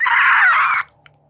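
A loud, sustained scream of a malevolent spirit, voiced as a sound effect by a person, holds steady for almost a second and then cuts off abruptly into near silence with a couple of faint clicks.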